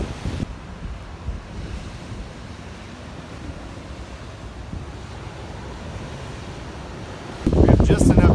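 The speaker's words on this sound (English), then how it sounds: "That tide is coming in. Getting closer and closer." Ocean waves and an incoming tide washing onto the shore, a continuous roar of surf with buffeting wind on the microphone, then a sudden louder rush of water near the end.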